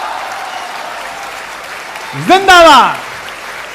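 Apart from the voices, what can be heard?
audience applause at a Hindi poetry recital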